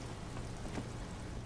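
Rain falling in the Disco Elysium video game, heard as a steady, dense hiss of rainfall that fills the short stretch on its own, with no talk.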